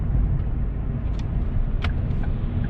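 A well-maintained used car driving smoothly, heard from inside as a steady low engine and road rumble with a couple of faint clicks, alone and without talk.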